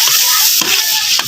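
Garlic and onion frying in a pan, giving a loud, dense sizzle with brief scrapes of stirring breaking through now and then.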